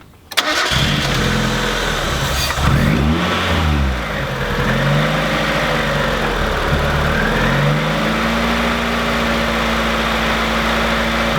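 A supercharged rally Mazda Miata cranks and fires up, then settles into a loud, close engine note that swells in revs and falls back to an uneven idle, with throttle blips and no talk.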